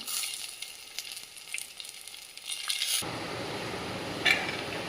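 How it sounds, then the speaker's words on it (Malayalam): Peanuts roast in a pan with a soft, dry rustle; then curry leaves drop in, setting off a sudden, louder, steady sizzle that stays close and continuous, with no talking. "കുറച്ച് കറിവേപ്പില ഇട്ട് കൊടുക്കാം"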